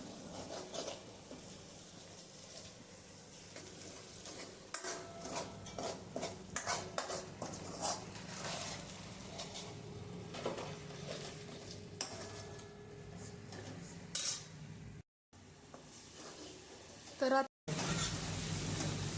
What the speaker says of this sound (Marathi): लाल तिखट व्यवस्थित परतून घेऊया